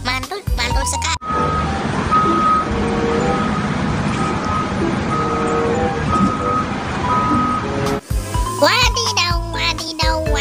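A toy hydraulic truck sounds a run of repeated electronic reversing beeps over a busy, buzzing mechanical background. A voice talks briefly before and after the beeping.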